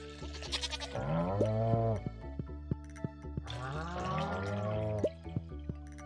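A goat in the Stardew Valley farming game gives two drawn-out bleats, one early and one midway, separated by light clicking and dripping game sounds.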